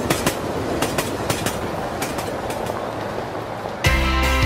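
A Lithuanian Railways train runs along the rails with steady clickety-clack wheel beats and rumble, close and loud, before music swells in at the end.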